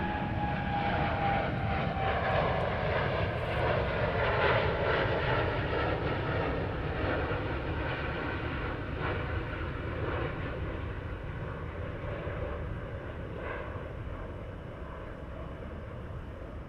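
An Air Canada airliner at Heathrow Airport, a loud continuous jet engine roar with a slowly falling whine, heard from the ground as it passes and gradually recedes.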